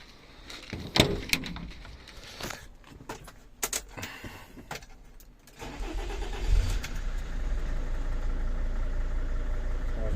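Keys jangle and a door thumps, then a 2003 car's engine cranks and catches, settling into a steady low idle that continues to the end.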